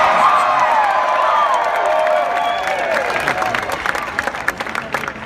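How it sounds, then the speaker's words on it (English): A large crowd at a Bernie Sanders rally in a parking facility in Reno, Nevada, cheering, whooping and applauding loudly and steadily, with the clapping growing choppier toward the end. "What a fantastic crowd."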